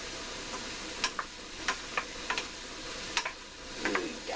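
Garlic and bok choy stirred in a hot pan with coconut oil, a low steady sizzle broken by sharp scraping clicks of the utensil at an irregular pace, close up with no talking.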